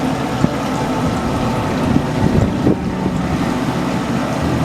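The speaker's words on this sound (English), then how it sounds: "that is also a fan in there that circulates the hot air in the Traeger that makes it cook" Steady whooshing hum of the convection fan circulating hot air inside a Traeger pellet grill, continuous and fairly loud with a broad airy rumble and no talk.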